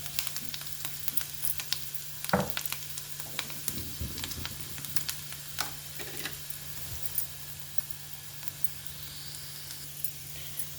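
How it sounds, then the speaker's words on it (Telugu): Ginger garlic paste fries quietly in a pan, a soft, steady sizzle broken by scattered clicks and taps from stirring, with no talking. "అల్లం వెల్లుల్లి పేస్ట్ కూడా వేస్తున్నాను."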